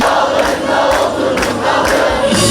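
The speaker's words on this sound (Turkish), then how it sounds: "alkışlarınızı rica ediyorum" A large crowd at an outdoor political rally in İzmir, a loud continuous roar of clapping and shouting that fills the whole stretch.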